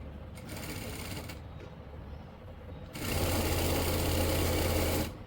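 A sewing machine stitches the ban collar of a kurti: a rapid, steady mechanical rattle runs close by, pauses briefly, then comes back louder and faster for a couple of seconds before stopping.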